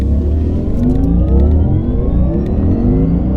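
A 1100-horsepower Porsche pulls hard up a mountain pass, its engine roaring loud and close in a continuous rising drive with a steady climbing pitch and no voices over it.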